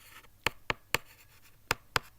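A pen taps and scratches quickly while writing out a chemistry definition, giving five short, sharp strokes in an uneven rhythm, close and fairly quiet.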